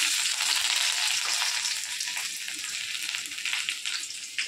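Taro leaves frying in a pan with chili and garlic, a steady loud sizzle with crackling spits running throughout, close by and with no voices over it.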